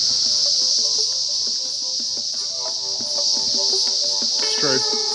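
A shrill, constant high-pitched cicada drone fills the air at Barra, with faint scattered tones and background sounds beneath it.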